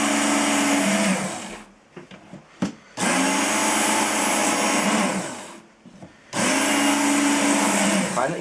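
A Work Sharp belt sharpener grinds a knife on a fine belt, with three long, loud, steady whining runs separated by brief pauses filled with small clicks and handling knocks.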